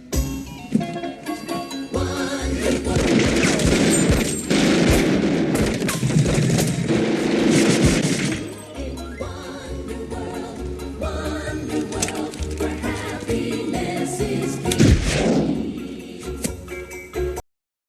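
Staged movie gunfire effect likened to a t-shirt gun: dense, continuous bursts of shots and booms under a music bed, loud and sustained for most of the stretch, dipping briefly and surging again near the end.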